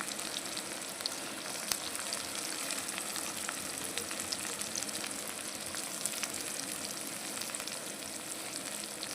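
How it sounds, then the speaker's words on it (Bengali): Onions and green chillies fry steadily in a hot pan, a dense continuous sizzle with scattered crackles and pops, close and even throughout with no talking. "লাল লাল করে পেঁয়াজটা ভেজে দিই"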